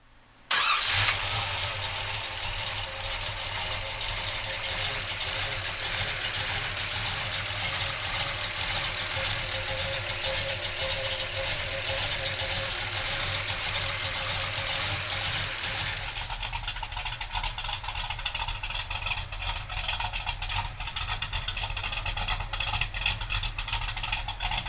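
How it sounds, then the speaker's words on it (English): A 1967 Chevrolet Chevelle engine cranks and catches, then settles into a loud, steady idle close by, with a slight shift in tone partway through as it continues running alone. "So come on up and we'll fire it up for you right now"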